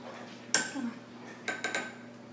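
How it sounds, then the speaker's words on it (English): A spoon stirring sea salt in a cup clinks against the sides, with one sharp tap followed by a quick cluster of three more light clinks close by in a quiet room. "So right now we are stirring the cup."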